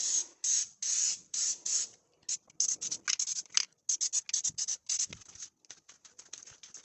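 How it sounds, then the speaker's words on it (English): Wax-like rust undercoating sprayed under a Range Rover, heard as repeated close hissing bursts of varying length with brief gaps between them, no talking. "You want to get in all the holes and spray that"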